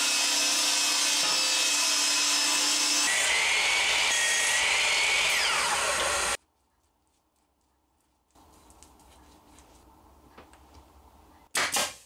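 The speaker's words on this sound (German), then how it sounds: "10 cm Streifen zuschneiden" A table saw rips wood into 10 cm strips. Its loud whine runs for several seconds and drops in pitch as the blade bites, then cuts to silence, a quieter spin-down with faint handling noise follows, and a short loud burst ends it.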